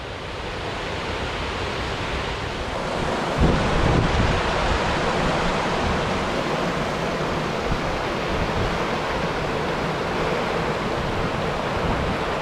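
Rushing water of Fall Creek on a forest hiking trail in South Cumberland State Park, Tennessee: a loud, steady, broadband roar that continues unbroken throughout.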